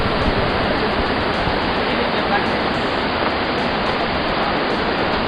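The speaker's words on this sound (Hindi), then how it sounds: "इसका नाम देवगंगा है और ये बहुत ही हाइट से ऊपर से झरना गिर रहा है।" The Devganga waterfall on the Gaumukh–Tapovan trek plunges from a great height, a loud, constant, close roar of falling water that fills the whole stretch without a break.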